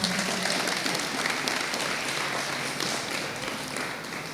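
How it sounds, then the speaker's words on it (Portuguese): Steady crowd applause, dense and continuous clapping that holds throughout and fades slightly toward the end. "palmas para a galera aqui"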